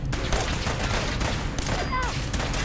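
Sustained gunfire in Fallout 4 rattles in rapid, dense volleys under a synthetic-sounding combat voice, with loud overlapping shots throughout.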